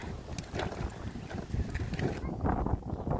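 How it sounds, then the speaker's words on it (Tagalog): Strong gusts of wind buffet the microphone on a bike track in Morphett Vale, South Australia, a rough, continuous rumble with no speech. "nililipad talaga ng hangin ang hat ko kasi medyo mahangin talaga"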